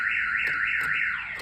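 A 2006 Chevy Cobalt's aftermarket car alarm wails loud and close, a steady rising and falling siren tone that cycles about every third of a second, with brief clicks between sweeps.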